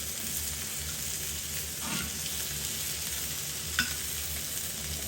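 Lentil eggs frying in a non-stick skillet give a steady, quiet sizzle, with a soft scrape of stirring near two seconds and a brief clink near four seconds.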